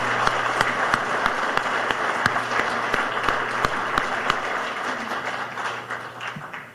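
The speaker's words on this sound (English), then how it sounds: "Let's give them a round of applause." Sustained audience clapping at an awards banquet, a dense, steady crowd applause with a few sharp nearby claps, a low hum beneath, easing slightly toward the end.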